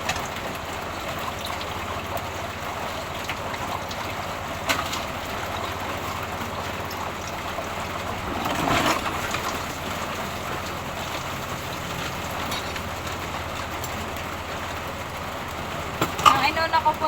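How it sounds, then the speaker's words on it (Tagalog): Steady rain pours down continuously, a dense even hiss with occasional louder splashes and a brief swell in the middle, falling during a persistent downpour at home with no talk. "Dito po sa amin ay wala pong tigil po ang ulan hanggang ngayon po."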